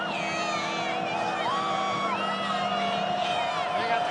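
A football stadium crowd of 90,000 at a USC game roars in a steady, dense wash of cheering with whistles and whoops, loud and continuous throughout.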